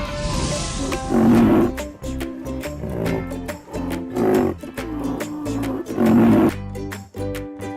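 Toy rhinoceros roar effect: several loud growling roars in bursts over a rhythmic backing of music-like tones.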